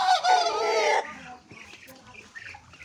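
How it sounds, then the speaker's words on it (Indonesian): A jelly silver Muscovy duck gives one loud, harmonic call lasting about a second, close by. Softer scattered fowl noises follow. "Ini ada entok jelly silver"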